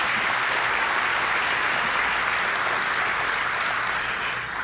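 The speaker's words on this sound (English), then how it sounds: "Let's give another round of applause for both these fantastic organizations." Steady, dense applause from a large audience honoring two organizations, even and sustained, tapering slightly at the end.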